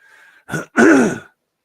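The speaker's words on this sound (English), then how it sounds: "I had to clear my throat." A single close, loud throat clearing: a short rasp followed by a longer, voiced guttural rumble, then silence.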